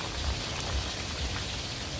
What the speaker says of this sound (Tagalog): Ayan na nga ang ulan.